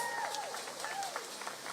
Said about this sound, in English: Give Elias a big round of applause